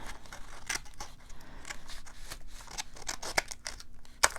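Scissors cutting paper while a journal is being made, with a run of close snips and crisp cuts and a couple of sharper clicks near the end, no talking.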